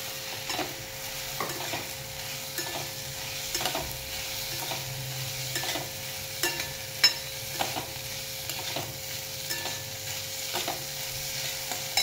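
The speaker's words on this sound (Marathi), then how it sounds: "आता आपण हे मूग पण आता हे परतून घ्यायचं" Green mung beans with onion and tomato being sautéed in a pan: a soft, steady sizzle broken by repeated spatula scrapes and taps at an irregular pace, close and fairly quiet.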